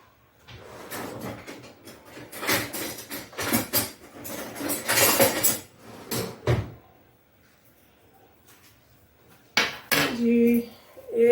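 Daal is served onto a plate amid busy clinking of dishes and cutlery, with loud clattering bursts, then a quiet pause before a few more close clinks of plate and utensils.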